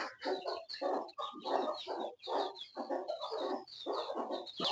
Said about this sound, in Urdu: یہ بھائیو وہ لسانی مرغا کھڑا ہے